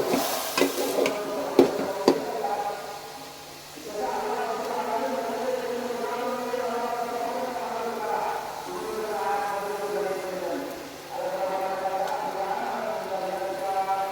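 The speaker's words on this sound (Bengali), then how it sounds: "পোলাও চালটা আমি ভেজে নিচ্ছি উপর নিচ করে।" Polao rice fries in a pan with a steady hiss as it is stirred and turned over, scraping clicks near the start, while someone talks over it.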